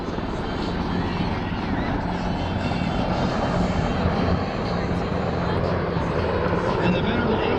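A military MH-60 Seahawk helicopter flying by: loud, steady rotor thrum and engine roar, close and constant, with a voice talking over the noise.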